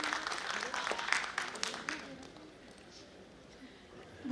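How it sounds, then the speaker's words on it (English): Audience applause at a medical conference as a doctor takes the stage: a dense clapping burst that fades after about two seconds into a quieter room, with a hint of voices mixed in. "A big round of applause for him."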